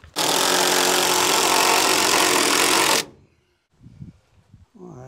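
A power tool drives a screw into a wooden porch post, a loud steady whir lasting about three seconds before cutting off, followed by a few faint knocks and handling noises.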